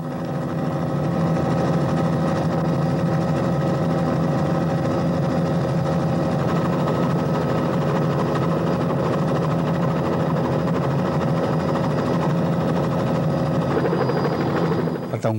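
A helicopter's loud, steady rotor and engine drone holds continuously and close throughout, a dense mechanical whine that cuts off abruptly at the end, from 1983 news footage.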